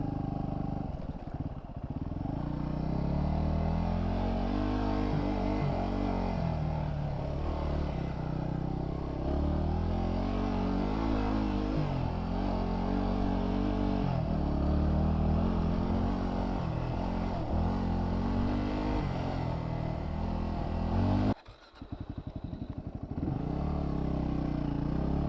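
A dual sport motorcycle engine running steadily and close by for a long stretch, its rumble rising and falling with throttle, cutting out abruptly near the end before resuming.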